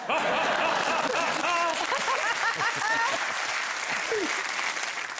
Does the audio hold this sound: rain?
no